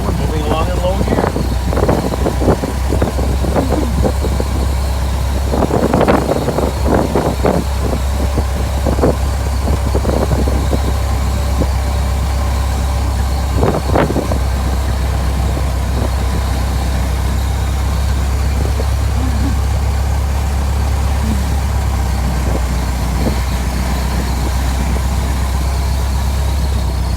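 A Ford Model T chugs along in low gear with a steady low engine rumble, heard close with wind buffeting and some knocks, while people talk over it.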